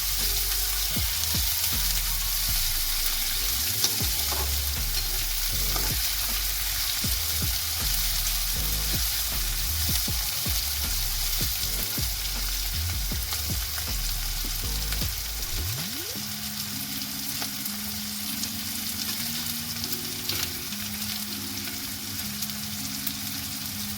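Chopped onions sizzle steadily in a hot pan while a spoon stirs them through, with scraping knocks over a constant frying hiss; near the end the stirring stops and the sizzle carries on alone.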